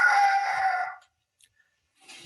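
A person imitates a rooster crowing, one loud, close cock-a-doodle-doo lasting about a second, followed by silence and a short faint sound.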